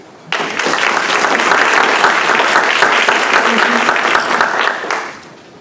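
An audience in an evening event hall applauds to welcome a student speaker, a loud sustained burst of clapping that starts abruptly, holds steady for about four and a half seconds, then fades out.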